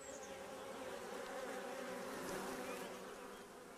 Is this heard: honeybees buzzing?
yes